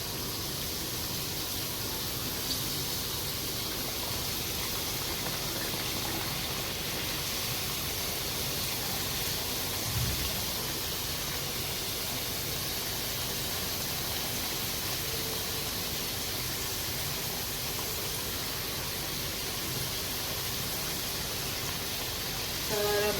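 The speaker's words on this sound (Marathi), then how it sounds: "आता आपण आहे ना वेफर्स टाकायला सुरुवात करूया" Sliced potato chips frying in hot oil on a high gas flame, a steady loud hiss and bubbling sizzle that holds constant for the whole stretch with no talk.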